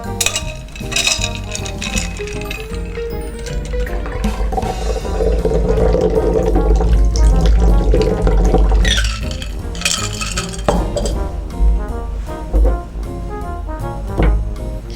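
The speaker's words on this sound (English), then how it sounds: "Once your ingredients are well mixed, we will use the Hawthorne strainer." A margarita cocktail is strained through a Hawthorne strainer into a glass, a continuous close splashing pour with ice clinks and rattles throughout.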